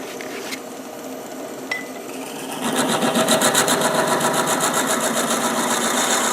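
A power drill bores into wood for a 3/8 inch brass insert, quiet handling at first, then the motor spins up into a loud steady whine with a pulsing bite as the bit cuts.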